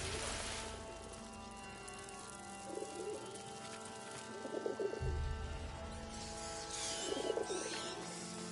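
Pigeons coo softly in a few low, burbling phrases over quiet ambient game sound in the video game A Plague Tale: Innocence, faint and without speech.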